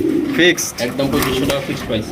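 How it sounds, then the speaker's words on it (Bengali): Pigeons, a male and female pair on sale, coo in low repeated murmurs up close, mixed with a busy background and nearby voices. "খুবই সুন্দর কবুতর"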